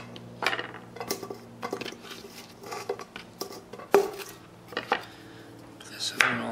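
Sliced zucchini being laid into a pan for grilling, heard as a series of light taps, clinks and soft thuds at an irregular pace, with a quiet voice in the background.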